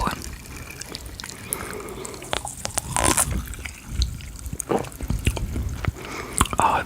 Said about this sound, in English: Can you hear it bubbling?